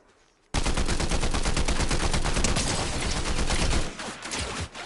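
A sustained burst of rapid automatic gunfire in Fortnite starts abruptly after a near-silent moment and hammers on loud and close for over three seconds before breaking into scattered quieter shots.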